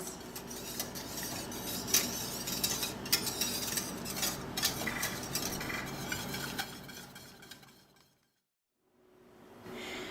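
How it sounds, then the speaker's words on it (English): Butter and hot sauce heating in a pan for hot wing sauce, with steady sizzling and repeated utensil clinks and scrapes, then a brief silence before the sizzle returns. "So we're going to get all this into our pan, heat it until the butter melts, and then let it simmer for about 5 minutes."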